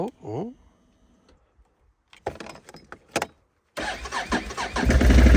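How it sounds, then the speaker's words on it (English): A Can-Am quad, iced over in cold snowy weather, cranks and fires up, settling into a loud steady engine run after a few quieter clicks and rattles; a voice is heard briefly at the start. "Classic Can-Am, starting up every time."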